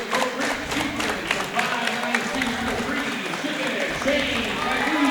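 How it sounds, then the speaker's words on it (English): Crow Creek Chieftains fans do their rhythmic team clap in a gym at a boys' high school basketball game against the Chamberlain Cubs, the regular crowd claps steady and moderately loud beneath an announcer introducing the starting lineups. "Chieftain clap starts"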